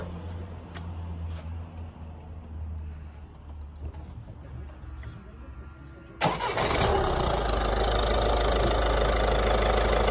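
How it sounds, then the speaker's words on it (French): A Peugeot 308 BlueHDi 1.6 diesel cranks and fires up about six seconds in, then settles into a loud, steady idle, after a quiet stretch with low background noise. "Alors là maintenant on va mettre juste la voiture en marche pour voir si tout est bon"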